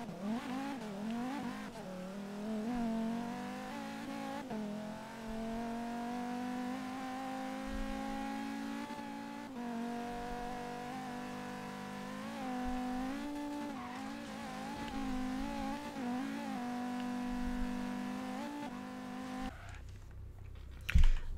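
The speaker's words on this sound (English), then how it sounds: "A supercharged Volvo 850R engine in a Bugatti Veyron." A supercharged Volvo 850R engine swapped into a Bugatti Veyron in Forza Horizon 3 drones steadily, its pitch rising and dipping as the revs shift, before cutting off into a short noisy burst at the end.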